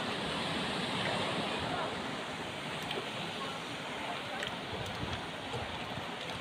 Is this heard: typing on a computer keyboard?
no